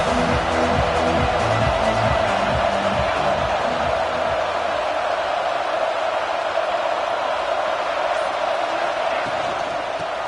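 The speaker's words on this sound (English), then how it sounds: "This crowd ready to make its presence known." A football stadium crowd fills the space with a loud, broad roar of cheering that holds steady and thins slightly toward the end, with no clear voices above it.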